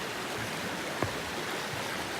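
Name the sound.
flowing creek water, 7-Mile Creek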